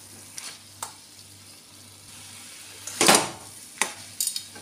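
Ridge gourd fries in a pan with cumin and coriander paste, giving a low steady sizzle broken by sharp scrapes and clinks of a spoon stirring against the pan.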